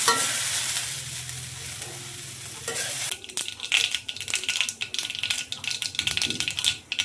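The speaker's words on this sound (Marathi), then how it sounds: "मोहरी आपली चांगली तडतडली आहे" Mustard seeds spluttering and popping in hot oil in a pan while cooking a Marathi-style gawar (cluster bean) curry, a steady sizzle giving way to dense, rapid crackles and pops up close.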